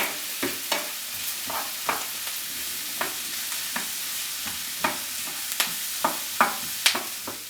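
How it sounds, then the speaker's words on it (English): A spoon stirs mushrooms and vegetables frying in a pan over medium-high heat, a steady soft sizzle broken by sharp scraping knocks roughly every half second, close up with no voices. "My mushrooms have some color to them, but I'm going to continue cooking them just a little bit longer"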